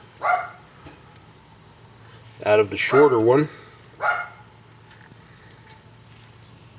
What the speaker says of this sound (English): You'll hear my kid's dog barking in the background.